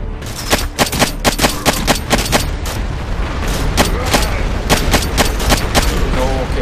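Dense gunfire barrage from the video game State of Decay: Lifeline, with rapid repeated shots and bursts firing steadily and loudly over a rumbling background for the whole stretch.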